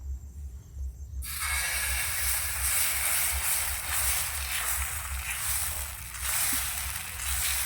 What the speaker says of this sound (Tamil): இப்போ நம்ம மாவு ஊற்றிக்கலாம்